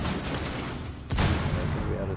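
Automatic gunfire from a Rainbow Six Siege match as a drone is shot out, a sustained loud burst that sharpens partway through over constant game noise.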